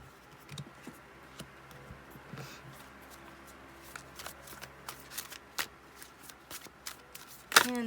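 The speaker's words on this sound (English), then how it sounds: "And thank you for bearing with me as I shuffle on camera." Tarot cards are shuffled by hand at close range, with a run of soft riffling and slapping bursts that grows busier, ending in a sharper snap, and no talking over it.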